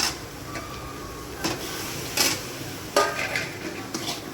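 Coriander leaves being stir-fried in a pan, with a steady faint sizzle broken by a few sharp scraping and clanking strokes of a utensil against the metal pan.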